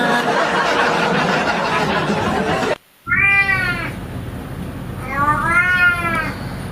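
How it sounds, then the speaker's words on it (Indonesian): Two drawn-out cat meows, close and clear, following a brief burst of noisy chatter and a short silence. "Kucing saya udah mulai bising itu."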